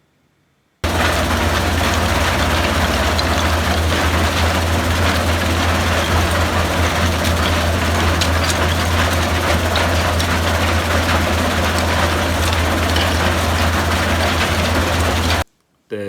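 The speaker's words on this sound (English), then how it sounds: "In this short clip, you can see the oversized material coming out of the 2-deck screen." A 2-deck screen discharging oversized scrap material, a loud continuous rumbling machine roar with a steady low hum and a dense rattling clatter of material, starting and stopping abruptly.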